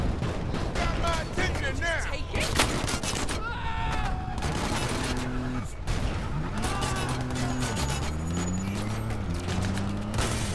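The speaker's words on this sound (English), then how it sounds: "Watch the enemy fire." Enemy gunfire in the Crackdown 3 video game, dense bursts of shots and explosive impacts mixed with whooshing effects and engine-like tones, loud and continuous, with a voice speaking over the action.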